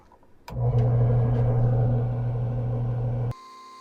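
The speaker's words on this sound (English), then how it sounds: "now that we have our lines kind of dug in there with the Dremel tool" A handheld Dremel rotary tool scores lines into brass while forging a Damascus pattern, a sudden loud steady hum with strong low tones that runs for about three seconds and then cuts off abruptly.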